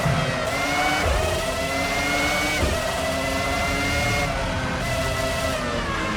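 Formula One race cars from the PS2 game F1 05 scream toward the finish line, a steady high engine whine with rising and falling pitch sweeping as cars pass, loud and continuous with no talk.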